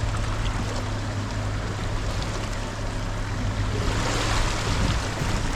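Dargo River rushing over rocks in the Devils Hollow and Mayford Valley area, a steady, loud, close broadband water roar that continues unbroken with a faint low engine-like hum underneath.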